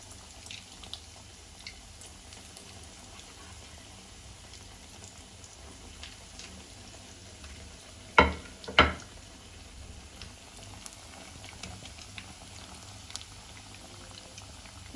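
Chicken bread rolls deep-fry in hot oil over a medium flame, a quiet steady bubbling sizzle with two sharp louder crackles partway through.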